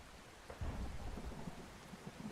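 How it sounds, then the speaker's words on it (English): Steady rain pours with a low rumble of thunder in the storm-chasing video game OUTBRK, a soft, continuous wash of heavy rain under a distant roll, with no voices. "So we got definitely one more wall of rain coming"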